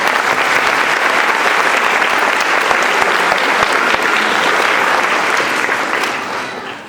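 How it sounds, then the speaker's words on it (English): A crowd at a school third grade chorus concert breaks into loud, dense, sustained applause that holds steady for several seconds, then tapers off at the end. "they get actually an extra round of applause"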